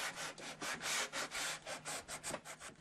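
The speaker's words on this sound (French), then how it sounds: "ne pas abîmer l'arrondi des finitions en passant la ponceuse ou le papier de verre." Rhythmic back-and-forth rasping of sandpaper on wooden furniture, steady strokes about four per second, close and alone with no voices.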